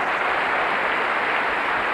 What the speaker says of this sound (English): A crescendo of applause for Mr. Tracey after his performance of that demanding solo.